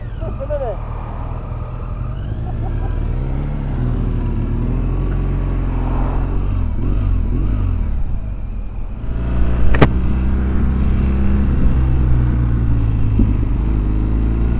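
A 2007 BMW 1200GS motorcycle engine drones steadily while riding, low and constant with wind rush, under a rider talking, with a brief sharp whine near the end.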